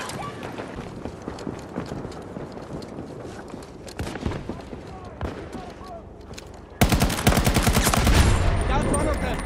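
Galloping horse hooves from an enemy soldier's mount in a combat video game, rising into loud rapid gunfire near the end, with busy battlefield noise throughout.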